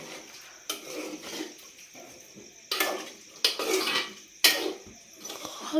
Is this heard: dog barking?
no